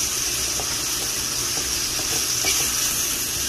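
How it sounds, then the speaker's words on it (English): Food fries in a pan with sausage added, producing a continuous, dense sizzle that stays even throughout. "I'm going to fry this for a minute and a half"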